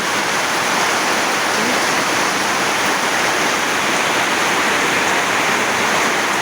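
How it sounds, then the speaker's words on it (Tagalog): Very heavy rain pouring down in a continuous dense roar, loud and close, with no breaks and no voices over it. "sobrang lakas ng ulan"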